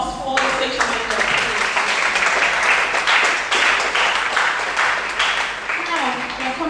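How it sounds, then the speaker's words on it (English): Audience applauds the station manager at a live event, a loud sustained burst of clapping after a brief spoken lead-in, with some voices under the applause. "A round of applause for the station manager."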